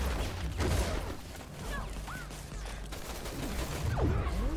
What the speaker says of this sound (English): They just open fire.